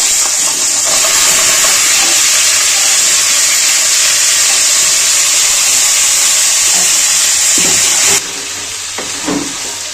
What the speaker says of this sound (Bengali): আলু ভাজা গরম তেলের মধ্যে নুন হলুদ মাখা কাঁকড়া গুলো ভেজে নেব।